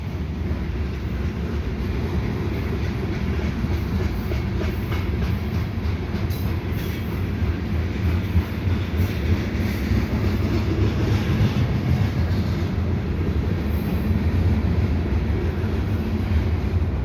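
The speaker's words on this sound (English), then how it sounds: "that Siemens train is waiting to go." A Via Rail Siemens passenger train departs nearby in winter, rumbling steadily with a deep, continuous roar of rail noise, wheels grinding along the track as it gets underway.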